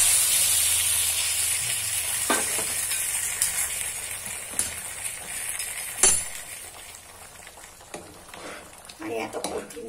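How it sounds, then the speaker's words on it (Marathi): Hot oil tempering with bay leaf and chillies is poured into dal, giving a soft steady hiss with brief sharper bursts of sizzling and a few faint clinks, while a voice talks quietly underneath. "याची फोडणी थोडीशी याच्यात ओतते।"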